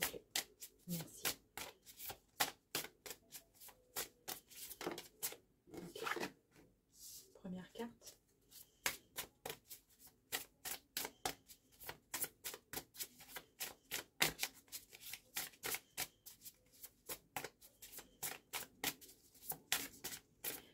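Tarot cards are shuffled in rapid, crisp riffling bursts with brief pauses, a dense rhythmic flutter of slaps and clicks, while a voice talks quietly underneath.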